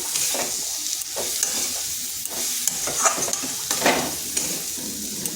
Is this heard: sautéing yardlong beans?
yes